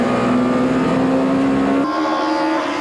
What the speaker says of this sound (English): The three cars are locked together down the main straight